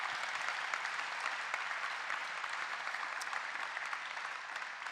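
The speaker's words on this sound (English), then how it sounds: "please help me give a big round of applause for all of our healthcare workers" Sustained applause from an audience at a community event, a dense, even wash of clapping that stays loud and steady throughout, with no voices over it.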